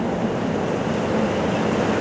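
Water in the River Don, a small stream-like river, rushes under a bridge in an even, echoing roar. The wash is steady and fills the space, with no talking.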